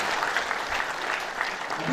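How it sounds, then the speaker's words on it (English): Audience applause for a guest lecturer at a university event, a steady dense clapping from a large crowd that fills the whole stretch at even loudness. "Please, another round of applause for the guest lecturer"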